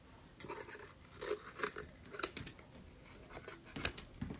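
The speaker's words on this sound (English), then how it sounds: "we're just going to cut those off so we have an opening for our ramp." Scissors snip through the tabs of a cardboard cereal box in several short, crisp cuts, close up and fairly quiet.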